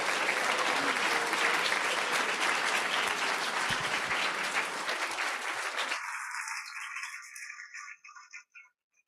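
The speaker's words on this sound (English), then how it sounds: "Let's give all the graduates a big round of applause." Audience applause for graduates at a Bala Vihar graduation ceremony: dense, sustained clapping from a full room that thins out and fades to silence near the end.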